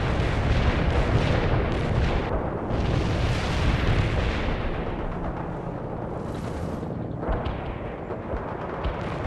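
Artillery barrage in the World in Conflict game, a dense continuous roar of overlapping booms and blasts, loud and sustained, rumbling heavily throughout.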